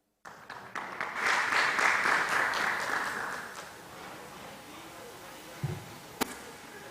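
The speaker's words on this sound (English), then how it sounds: "Dear ladies and gentlemen, please give a round of applause for Mr. Zhang." Audience at a higher-education symposium on digital transformation gives a round of applause, swelling quickly, holding for about three seconds, then fading into quiet hall ambience with a few faint thumps.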